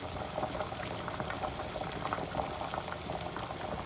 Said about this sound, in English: The cauliflower has been boiling for 5 minutes now.